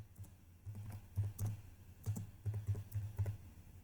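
Text is typed on a computer keyboard in quiet, close bursts of soft, irregular key clicks with brief pauses between them.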